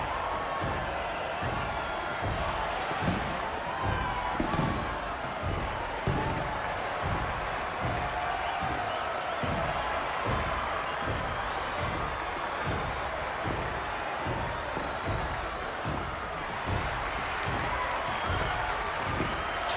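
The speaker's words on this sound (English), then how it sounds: "There's a whole lot of clapping and cheering sounds" In the video game Atomic Heart, a crowd keeps up clapping and cheering as a steady wash of many hands with a rhythmic pulse underneath, even and moderately loud for the full length.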